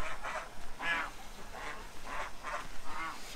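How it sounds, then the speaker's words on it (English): A group of geese honks repeatedly and fairly close, with loud nasal calls coming in an uneven rhythm of about five or six bursts. "The geese are really demanding."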